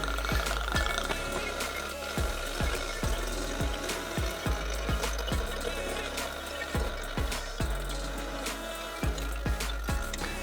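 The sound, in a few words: pouring Royal Navy rum from a flagon into bottles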